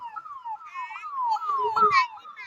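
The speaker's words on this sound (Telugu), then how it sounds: "ఎవరో అంబులెన్స్ లో వెళ్తుర్రు" An ambulance siren wails in rising and falling sweeps, loud and clear with harmonics, passing at night with little else around it.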